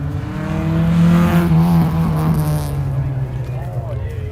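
A Lachlan Kelly XL Series race car pulling away, its engine droning loud and steady, rising then easing off as a commentator talks over it.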